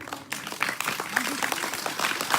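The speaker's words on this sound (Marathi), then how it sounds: "एवढ्यांच्या टाळ्या वाजल्या" An audience at a kirtan gathering claps their hands in a dense, loud patter over a few seconds, with voices mixed underneath.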